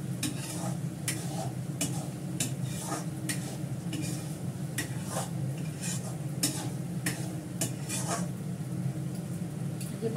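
Ground paste of cashew, poppy seed, onion and ginger stirred in a pan, a steady close sizzle broken by regular spoon scrapes and clinks against the metal.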